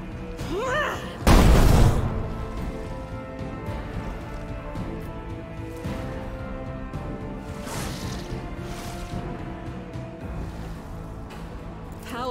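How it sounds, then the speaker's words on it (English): A grenade explodes in a Warhammer 40k: Rogue Trader battle in a throne room, a single loud booming blast followed by a quieter rumbling game soundscape. "I think we can still throw that grenade"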